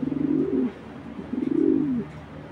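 A pair of club racing pigeons cooing close by, two rolling, throaty coos in a row over a low steady background hum.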